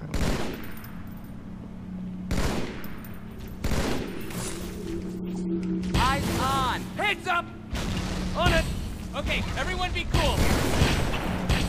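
Fuel rod cannon blasts and heavy weapon fire in the Halo 2 video game, a rapid string of loud booming bursts and explosions under ongoing battle noise, with game voices chattering between the shots.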